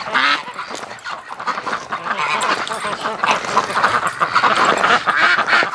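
Flock of ducks quacking inside a barn, a dense, loud, continuous chorus of overlapping calls close by, with no clear gaps.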